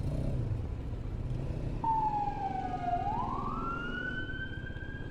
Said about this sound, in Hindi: पीछे लगता है एम्बुलेंस जा रही है।